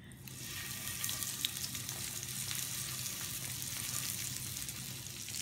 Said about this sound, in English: I'm going to brown my lamb, meaning I'm just gonna sear it.